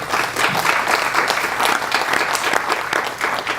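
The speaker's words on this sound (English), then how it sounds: "Can we give the guy a round of applause here?" Audience applause for a guest speaker at a Startup Grind event, a steady dense clapping from a crowd lasting the whole stretch, fairly loud and close with no talk over it.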